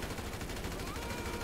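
Gunfire in the video game GTA 5, a rapid, continuous burst of automatic shots forming a dense rattling texture through the whole clip, moderately loud and sustained without pauses.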